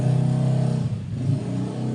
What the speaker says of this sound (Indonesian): ada motor lewat teman-teman. Motor berisik.